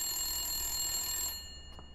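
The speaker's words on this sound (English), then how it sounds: "Of course the phone starts ringing the minute we..." Telephone ringing in the game Blacksad: Under The Skin, a shrill electric bell trilling continuously for over a second before cutting off, followed by a faint brief ring.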